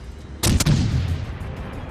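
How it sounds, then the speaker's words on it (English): Naval gunfire from the battleship Tirpitz in World of Warships, a sudden heavy double boom with a rumbling tail that fades over the next second, loud and close. "Turpitz is shooting at us"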